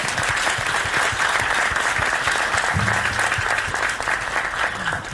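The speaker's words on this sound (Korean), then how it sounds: "큰 박수 부탁드리겠습니다." Sustained applause from a forum audience of university students, a dense steady wash of clapping filling the whole stretch at a constant loud level, with a low voice briefly audible underneath partway through.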